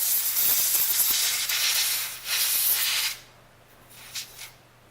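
Compressed air hisses in loud bursts into the action of a Remington 582 .22 caliber rifle during cleaning, followed by a couple of shorter, fainter puffs.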